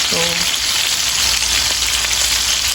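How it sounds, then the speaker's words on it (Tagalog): Fish frying in a pan gives a loud, close, continuous sizzle and crackle with a faint brief voice at the start. "Nagprito tag isda, guys, para isudan sa kanin."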